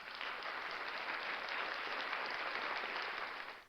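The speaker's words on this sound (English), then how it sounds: "I want to give those ladies a special round of applause." A crowd claps in a steady, even round of applause that holds for a few seconds and then fades out at the end.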